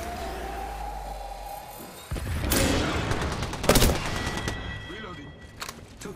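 Automatic weapon fire in the battle royale game Apex Legends, a dense burst of shots and impacts breaking in after a quieter stretch and continuing over game ambience, with brief voice callouts mixed in.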